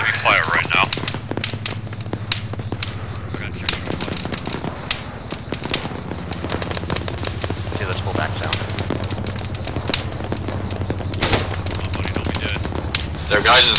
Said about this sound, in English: We are under very heavy fire right now.